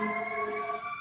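An emergency vehicle siren wails outside, a steady tonal blare with rich harmonics that holds at moderate loudness with no voices.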